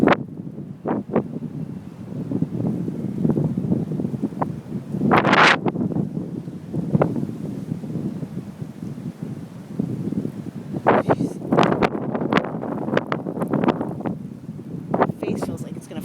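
Heavy wind gusts roar through a Chicago snowstorm, a steady low rush with buffeting surges, while a person speaks intermittently over it.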